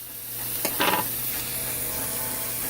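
Aromatics sautéing in a pan for pork adobo, a steady low sizzle with a few brief scraping stirs partway through, no talking.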